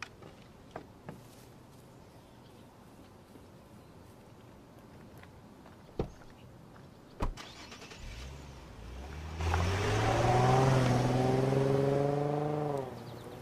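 A few sharp knocks in near silence, then a car engine starts, revs up and roars away, its pitch shifting through gears before it fades.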